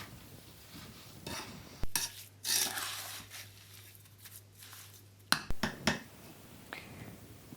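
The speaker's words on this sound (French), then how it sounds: "Maintenant, on mélange bien." Figs and sugar are stirred together for homemade fig jam, with soft intermittent scraping and light clinks of a spoon against the pot, fairly quiet and close, with a faint hum in the middle and no voices.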